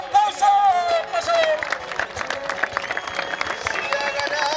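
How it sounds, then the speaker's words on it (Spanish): Rodeo crowd at a Latin American jineteada bronc-riding event applauding a rider, a dense steady patter of many clapping hands with a sustained high whistle-like tone at the start and mixed crowd noise throughout. "la ovación con tantas palmas"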